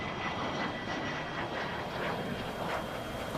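Learjet business jet in flight, heard from inside the cabin as a steady, loud broadband engine and airflow roar with no pauses.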